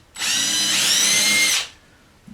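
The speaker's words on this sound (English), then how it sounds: "So I'm going to drill a hole right there." A power drill bores a small 1/8-inch hole about 1/4 inch deep into the bung side of a wooden barrel, one steady high whine of about one and a half seconds, close and loud, then spinning down.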